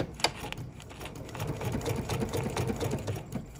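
A sewing machine runs a decorative stitch in a pattern of short and long lines, with a steady rapid mechanical chatter of the needle and motor, fairly close and continuous after a brief start; no voices.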